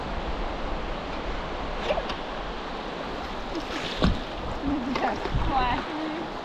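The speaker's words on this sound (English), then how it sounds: "Pulling paddle." A canoe or kayak paddled through high water on the Big Piney, with steady rushing water and wind noise, a few paddle strokes and splashes, and brief vocal sounds near the end.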